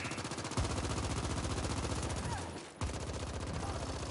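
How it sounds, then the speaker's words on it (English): Sustained rapid automatic gunfire in the sci-fi shooter The Ascent, loud and dense as enemies are shot, with a brief dip near the end before the firing resumes at full intensity. "Just keep shooting."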